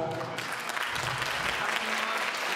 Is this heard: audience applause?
yes